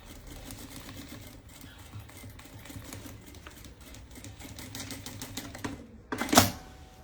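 Sewing machine stitching fabric, a fast, even mechanical rattle of the needle running steadily at low level, then a brief louder clunk near the end, with no voices.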